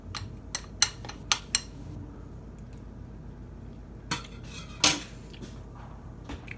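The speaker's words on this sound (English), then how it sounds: "this is the time that you have to mix the brownie." Spoon stirring microwave brownie batter in a cup, giving a few sharp clinks and scrapes against the sides in short bursts over a quiet room background, with no talking.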